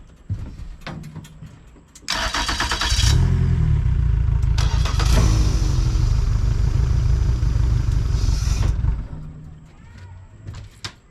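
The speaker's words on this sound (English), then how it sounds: "I can start the motors" Boat outboard motors start up for the first time after harness installation, a sudden loud engine roar that runs steadily for several seconds with clattering revs, then cuts back to quiet idle.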